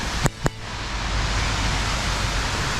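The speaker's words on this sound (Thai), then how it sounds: "ได้ยินเสียงน้ำตกแล้ว" Muak Lek waterfall in Saraburi pours into a stream with a steady, close roar of rushing water, preceded by two brief sharp knocks at the start.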